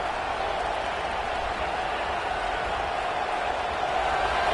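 A football stadium crowd sends up a steady, broad roar of noise that holds evenly throughout without breaks.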